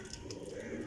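Soft cooing from a pair of pigeons, a Teddy male and a Sharki female, steady and close against a broad background hiss, with no talking.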